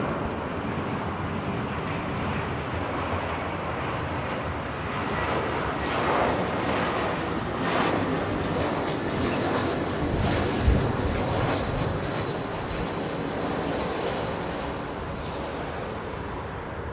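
Broadband roar of an Airbus A320 airliner landing at a windy Heathrow Airport, steady and sustained throughout with heavy wind buffeting on the microphone and a brief low thump near the end.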